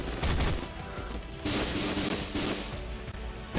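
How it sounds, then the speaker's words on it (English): Explosions in a Marvel video game: loud, sustained crashing blasts in several bursts, like rumbling booms and debris with heavy noise throughout. "Walking away from the explosion."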